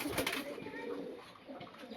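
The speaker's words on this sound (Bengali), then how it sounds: "এদিকে ভাইয়ের কবুতরগুলো মানে এই সেট আপের কবুতরগুলো" Pigeons coo softly and repeatedly at a pigeon farm, a steady low murmur of several birds close by, with no talking.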